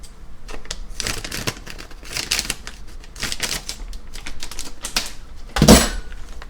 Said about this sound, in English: Use my special scissors.